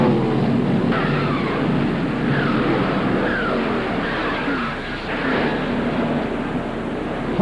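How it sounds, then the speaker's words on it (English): Race cars at Darlington Raceway during a crash in the 1995 NASCAR Mountain Dew Southern 500, including the McDonald's Ford. Loud, steady engine roar runs throughout, with faint skidding tones and no clear single impact. "Pretty nasty looking crash."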